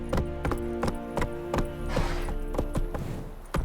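Roach, Geralt's horse in The Witcher 3: Wild Hunt, gallops at a steady clip with evenly spaced, loud hoof thuds, about ten beats over a few seconds, set against a constant bed of game music and ambience.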